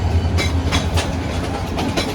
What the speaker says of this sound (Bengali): 2 নম্বরে যে ট্রেনটি দাঁড়িয়ে আছে এটা হচ্ছে জামালপুর কমিউটার ট্রেন